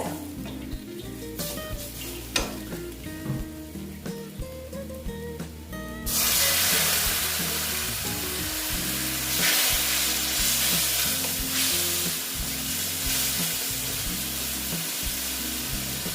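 Moong dal kaliya sizzles and fries loudly in a pan while being stirred, with scraping spoon strokes early on and a broad, steady hiss that swells after a few seconds and continues throughout, with no voices.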